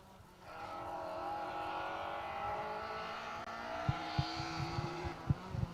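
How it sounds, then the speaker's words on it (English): A rally car on a stage in the Nicky Grist Stages 2023 passes nearby, its engine note rising and holding strong before a run of sharp thumps and clatters from the car toward the end. "Phil Sandham, that car sounds strong, doesn't it?"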